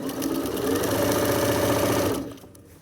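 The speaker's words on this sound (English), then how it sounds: "Now as I sew, I'm making sure that my edges are still lined up." Sewing machine stitching the lining onto a drawstring backpack, a steady close mechanical whir with rapid needle chatter running continuously for over two seconds before stopping and fading out.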